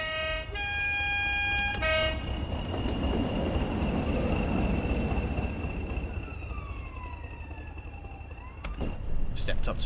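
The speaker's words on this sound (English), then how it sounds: "Hopefully we're still going to hear the AWS firing off." An AWS warning horn sounds in the cab of a Class 20 locomotive hauling a nuclear flask train on the West Coast Main Line in a train simulator, a loud steady two-tone blare at the start over engine rumble and rolling wheels.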